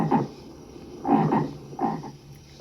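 A Tiger 2XL toy plays an electronic frog croak three times in an evenly spaced series of raspy calls, clear and close, with no talking over it.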